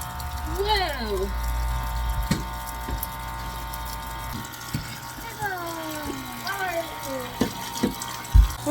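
A LetPot hydroponic growing system filling with water, with a steady low watery pump hum and trickle, occasional knocks and drips, while people talk and exclaim nearby with rising and falling voices.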